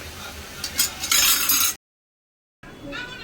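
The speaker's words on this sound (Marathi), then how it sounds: "आता मी याच्यामध्ये मसाले ॲड करते." Spices going into a pan of frying ginger for whole masoor dal, making a burst of sizzling and spoon-stirring scrapes up close, then a brief silent gap before the frying sizzle resumes.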